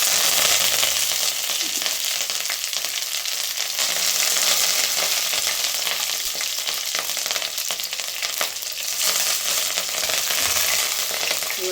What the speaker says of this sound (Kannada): ಆಮೇಲೆ ಸ್ವಲ್ಪ ಉದ್ದಿನಬೇಳೆ ಹಾಕ್ಕೊಳ್ಳಿ, ಸ್ವಲ್ಪ ಕಡಲೆಬೇಳೆ, ಸ್ವಲ್ಪ ಜೀರಿಗೆ, ಕರಿಬೇವು ಹಾಕ್ಕೊಳ್ಳಿ.